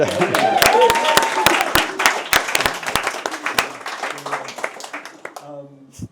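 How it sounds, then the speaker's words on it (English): An audience claps steadily for the parents at a film Q&A, the applause loud at first and then thinning out as it fades toward the end. "round of applause for the parents"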